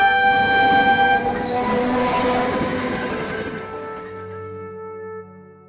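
A cartoon train passes through a station: a loud, sustained horn-like tone sounds over rumbling wheels and then fades away as the train moves off.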